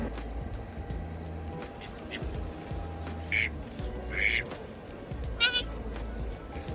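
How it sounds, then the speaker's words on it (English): A duck quacking close by in London gives three short, moderately faint quacks over a steady outdoor rumble, with the calls spaced a second or so apart. "the duck is coming so close to me"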